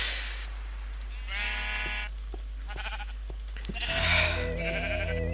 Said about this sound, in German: Oh, das arme Schaf.